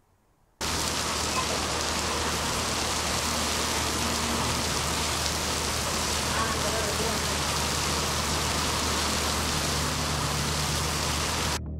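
Heavy overnight rain in coastal Karnataka pours down steadily as a dense, continuous roar that starts abruptly and holds at full strength throughout, with no voices over it.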